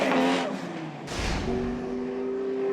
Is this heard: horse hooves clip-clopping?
no